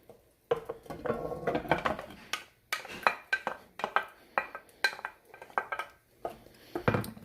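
A spoon stirs tomato soup with pureed tomatoes in a metal pot, giving repeated close scraping and clinking strokes in an uneven rhythm, with no one talking.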